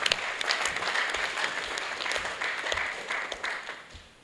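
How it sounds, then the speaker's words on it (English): A crowd at a political party gathering applauds its state chairman, a dense sustained clapping that starts strong, stays moderately loud and thins slightly toward the end. "Can we please give our state chairman a round of applause?"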